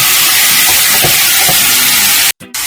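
Garlic frying in a pan with soy sauce and sesame oil added, a steady close sizzle with a few soft stirring taps, cut by a brief dropout near the end.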